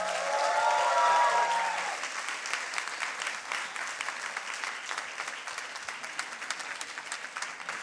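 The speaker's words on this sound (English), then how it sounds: "Big applause for the slammers of tonight, please." Audience applause for the science slammers at a Berlin Science Week science slam, a loud burst of dense clapping that eases into steady, slightly softer applause, with a speaking voice briefly audible at the start.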